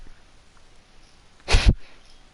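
A single short, sharp sneeze from a character in the video game Ghost Recon Breakpoint, loud and close against a quiet, faintly hissing background.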